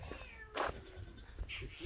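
A single short cat meow sounds nearby, faint, with a softer second mew shortly after against quiet room noise.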